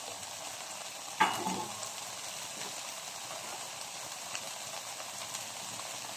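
Stuffing for a Christmas turkey sautéing in a pan, seasoned with pepper and salt, gives a steady close sizzle, with a brief clatter near the start and no talking.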